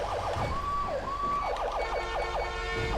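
An ambulance siren in the FivePD game wails loud and continuous, alternating between a rapid yelp and a slower rising-and-falling wail across the whole stretch, with no one speaking.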